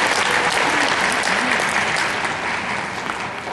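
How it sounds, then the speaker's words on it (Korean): Dense audience applause fills the hall after a choral concert by a university choir, steady and loud for the whole stretch, with no voices over it. "큰 박수로 맞아주세요."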